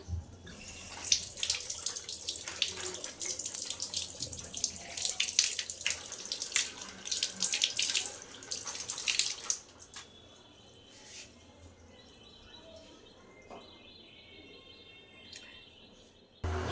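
Hilsa fish is rinsed under a running kitchen tap, with splashing water and handling noises for about nine seconds, then the flow stops and only a quiet room and a few faint drips remain.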